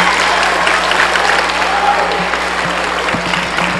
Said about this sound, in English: Round of applause for Evan.